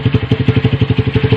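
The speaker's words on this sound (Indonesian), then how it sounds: "Ini stasioner tinggi seperti ini bunyinya men." A Honda Verza 150 motorcycle fitted with an Akrapovic exhaust holds a high idle, its close, loud engine pulsing in a steady rapid thumping rhythm.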